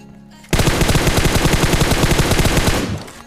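Rapid automatic fire from an MK gun in the FAU-G mobile shooter game, a loud sustained burst of evenly spaced shots lasting over two seconds after a brief quiet start, then cutting off abruptly.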